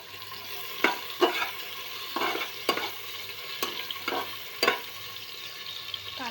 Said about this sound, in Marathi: कांदा सुद्धा आपण आता छानपैकी भाजून घेऊयात